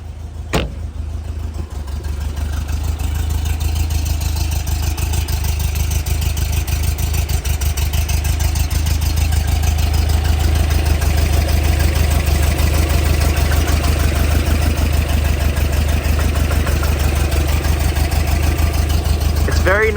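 A 1960 Porsche 356 B with a six-volt system starts after a slow crank and settles into a steady, loud, close idle with a low, even engine rumble.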